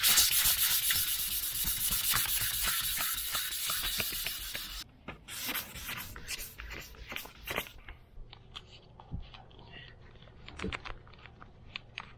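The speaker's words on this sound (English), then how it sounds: "We're going to give this a little sanding, a little painting." Hand sanding on a trailer surface, a dense steady rasping for several seconds, then shifts to irregular scratchy strokes and taps, close up with no voices.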